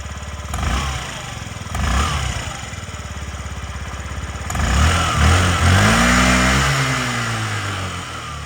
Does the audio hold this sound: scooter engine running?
yes